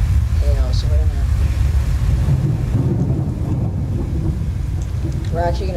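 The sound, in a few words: hail storm with thunder in Roblox Twisted video game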